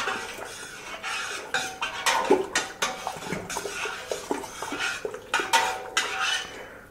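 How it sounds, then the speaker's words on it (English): A spoon stirs sugar into a corn wine mixture in a pot, producing steady repeated scraping and clinking against the container, close and fairly loud, with no voices. "we're going to go ahead and give that a good stir"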